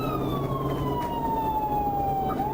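A police car's siren wails during a highway pursuit, a loud continuous tone sliding slowly downward over steady road and engine noise.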